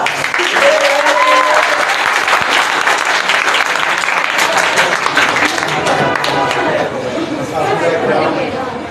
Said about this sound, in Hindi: तशरीफ लाते हैं आपकी भरपूर तालियों में हमीद राज।